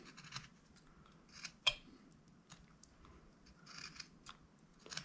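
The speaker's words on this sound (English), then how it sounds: "come down and kind of cut out that wood" A whittling knife carves a wooden hillbilly figure, making faint, close, intermittent scraping and snicking cuts with one sharper click and quiet gaps between strokes.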